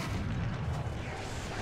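Tank cannon shot from a Jagdpanther tank destroyer in War Thunder: a dense, rumbling low boom that fills the clip at steady loudness, with no voices.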